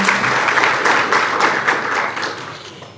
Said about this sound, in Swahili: Naomba tumpigie makofi Mheshimiwa.